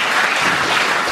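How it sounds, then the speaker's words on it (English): Snooker audience applauding in an arena after a frame is won, a loud, dense and continuous burst of clapping with no talk. "neither is that applause"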